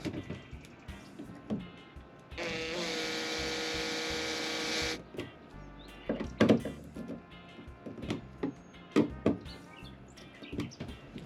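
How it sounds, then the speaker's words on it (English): A power driver sets screws into a boat's interior, with one sustained whirring run of about two and a half seconds, followed by scattered knocks, clicks and handling taps close by. "let's get a few screws in and call it a day."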